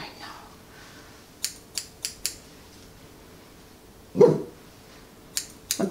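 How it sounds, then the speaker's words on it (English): Scissors snipping through a Schnoodle's hair in short quick bursts, a few crisp cuts, a pause, then a louder rustle and more snips close up. "lifting the hair up and then cutting into it"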